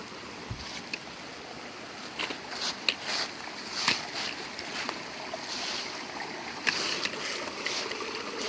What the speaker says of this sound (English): all of this water right here is coming out of this cave